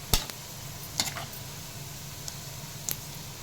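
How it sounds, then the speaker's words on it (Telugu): Chicken pickle masala fries in a pan with a soft, steady sizzle. A few sharp clinks from stirring punctuate it. "పచ్చివాసన పచ్చి పోయే వరకు వేయించుకోవాలి"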